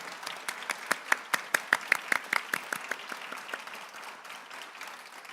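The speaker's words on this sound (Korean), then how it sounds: "다시 한번 큰 박수 부탁드립니다." Audience applause after a courthouse choir's performance at a national court-day ceremony, a steady patter of many hands clapping with sharper peaks in the middle, fairly close and filling the room, no talk over it.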